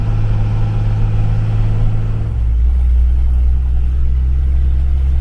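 A van engine labours up a steep hill in low gear, a loud, steady rumbling drone that drops in pitch midway as the load changes, with no voices.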